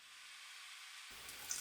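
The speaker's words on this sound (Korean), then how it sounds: "파프리카를 넣고 볶아요." Bell peppers stir-fry in about two tablespoons of cooking oil over high heat for pepper-steak stir-fry, a steady close sizzle and hiss that grows fuller as food hits the pan.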